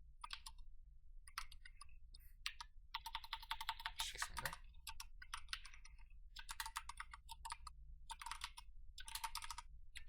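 Rapid typing on a computer keyboard while entering a package install command on Windows Server, with dense clusters of crisp key clicks, brief pauses between bursts, and a steady low hum underneath.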